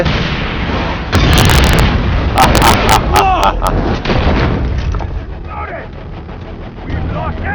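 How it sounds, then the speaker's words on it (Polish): Explosion in the Far Cry 3 video game: loud booms and bursts of blast noise with crackling debris over several seconds, followed by lingering rumble, while someone talks over the action. "zaraz będą mieli ładny wybuch"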